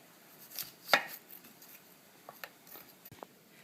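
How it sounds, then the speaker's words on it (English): A knife slicing a Granny Smith apple into very thin slices on a cutting board: a handful of crisp, irregular cuts and taps, one louder crunchy slice early on, close and clear with no talking. "now I'm taking a Granny Smith apple and doing the same. Very, very thin slices."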